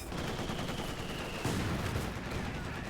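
Sustained light machine gun fire in the real-time strategy game Company of Heroes 2, a dense continuous rattle of rapid shots with a sharper burst midway, no talk.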